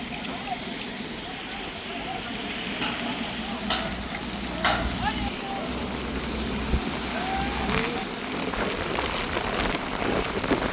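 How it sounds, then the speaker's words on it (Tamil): Steady heavy rain patters and hisses on a surface at the construction site of a 110-foot Indian Army bridge, with a few brief clicks and faint voices in the background. "பாருங்க, மழையும் வந்துட்டு சார்."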